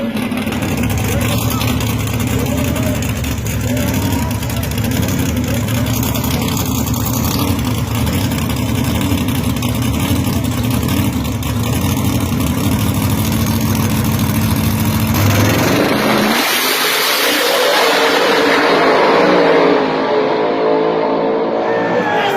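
A nitrous race car engine idles with a heavy, lumpy low rumble, then rises sharply into a loud rev near the end, with talk over parts of it.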